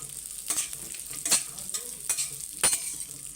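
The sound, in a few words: raisins frying in hot ghee in a kadhai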